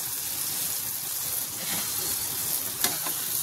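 Roasted vermicelli tipped into a pan over low heat, giving a steady close sizzle and crackle of frying throughout, with a brief sharper clatter near the end; no talk.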